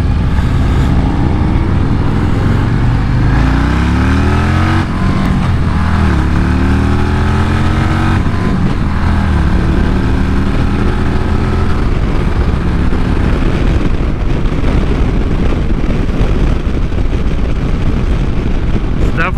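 Engine of a 2024 Harley-Davidson Road Glide motorcycle, heard while riding: a loud, steady V-twin drone with rising and falling revs that continues throughout, mixed with wind rush.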